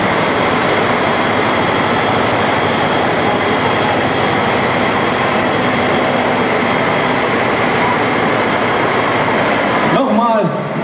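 Engine of an agricultural vehicle, a forage harvester, at a village anniversary festival, a loud, steady heavy rumble droning continuously for about ten seconds before cutting off abruptly.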